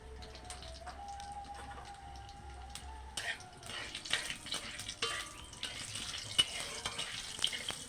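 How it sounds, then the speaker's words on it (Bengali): Whole spices tempering in hot oil in a home kitchen pan, a soft steady sizzle that swells after a few seconds with stirring clatter over it. "তেল গরম হয়ে গেছে, ফোড়ন দিয়ে দিচ্ছি।"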